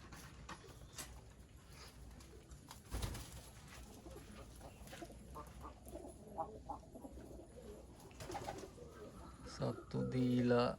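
Pigeons coo softly outdoors around a loft, low repeated murmuring calls with scattered rustling and clucks, growing louder and closer toward the end.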